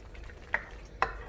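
A spoon stirring a beef handi mixture in a pot, two distinct metallic clinks against the rim over a quiet background.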